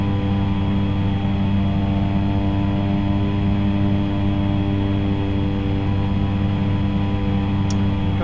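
A Cessna C208B Caravan's turboprop engine in X-Plane 11 drones steadily at high power, a loud, continuous hum with strong tonal layers that holds unbroken and close throughout, with no voices.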